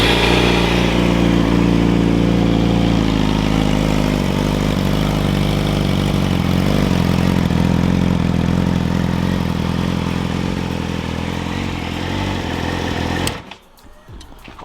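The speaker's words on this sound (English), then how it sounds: "I'm gonna start it up, run it a little bit" A Yamaha YZF R6 sport motorcycle engine runs at a steady, loud, close idle with a constant buzzing hum, then cuts off abruptly near the end.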